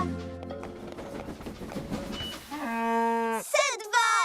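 Cartoon cows moo in drawn-out, tonal calls at the end of a children's animated farm scene, following a stretch of busy music and talk.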